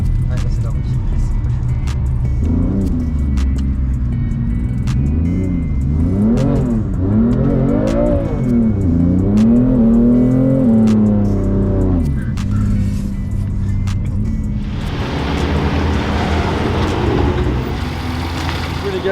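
A BMW engine revs hard during a drift, its pitch climbing and falling in waves as the wheels slide, ending in a broad hissing rush, with someone talking over it.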